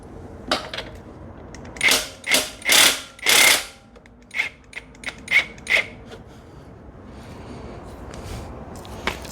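Ratchet wrench with an 18mm socket working loose the bolts on a KP Mini 150 RS EFI motorcycle: several close, sharp clicking bursts of varying length, then quieter spaced clicks.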